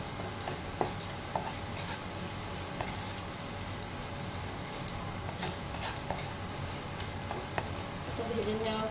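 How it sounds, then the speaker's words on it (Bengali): Onions and green chillies fry in a pan with a soft, low sizzle, and light clicks of stirring against the pan break through now and then. "আবারও ভালো করে ভেজে নিচ্ছি।"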